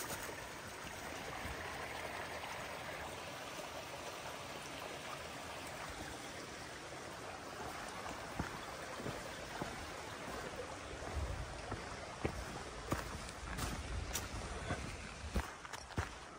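A small stream, the Pine Swamp Branch on the Appalachian Trail, trickles and babbles steadily in the background, with crunching footsteps on a trail growing more noticeable toward the end.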